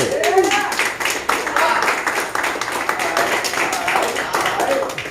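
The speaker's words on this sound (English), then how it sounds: "let's clap it up for that" Audience at a real estate investing mix-and-mingle clapping together, a steady patter of many hands with voices and cheers over the top.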